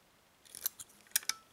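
Faint, sharp clicks from the pins of a Schlage Everest lock being picked, a few quiet taps, with two crisper clicks near the end, close up and without speech.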